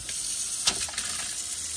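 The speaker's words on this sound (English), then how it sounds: "I'm going to run some cold water" Cold water running from the faucet into a dish-filled sink in an Avion 30R RV, a steady broadband hiss with a brief splash near the middle, fairly close and alone.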